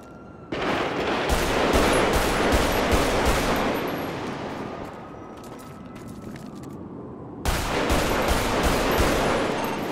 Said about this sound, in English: There's active gunfire happening, Kurt.